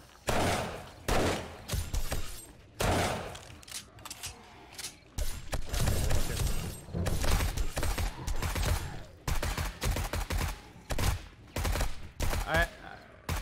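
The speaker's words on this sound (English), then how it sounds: "I don't like this gun because it's only burst shooting" Short bursts of gunfire from a burst-fire gun in the video game 7 Days to Die, loud clustered shots repeating at intervals, with talking in between.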